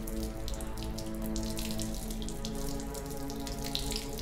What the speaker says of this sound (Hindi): पानी डालो बेटे मेरे हाथों पर